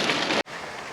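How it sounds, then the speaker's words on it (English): Rain falls on an allotment garden plot in late July, a steady hiss that cuts out abruptly for a moment before resuming more softly. "hopefully this rain will die down a bit and I can try them today"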